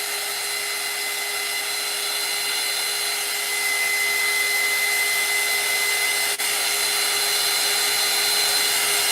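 A hair dryer runs steadily and close by, drying freshly made fall-themed craft art for a toy dollhouse, a constant loud whoosh with a fixed whine that swells slightly halfway through and holds to the end.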